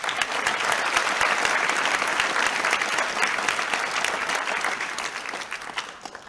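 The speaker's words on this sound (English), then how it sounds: "And then another round of applause." Sustained applause from a graduation ceremony audience honoring students, a dense steady wash of clapping that holds loud for about six seconds before thinning slightly at the end.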